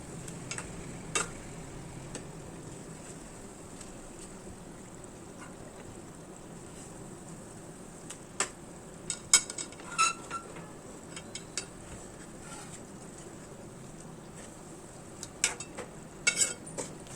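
Eggs dusted with chili powder sizzling in a frying pan for egg curry, a low steady fry with scattered sharp taps and scrapes of a spatula as they are turned.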